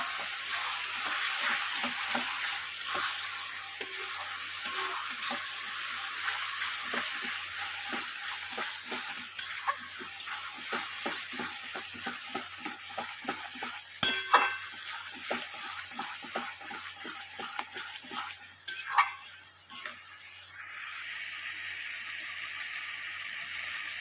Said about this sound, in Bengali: সেই মশলাটাই দিয়ে ভালো করে কষিয়ে নেব।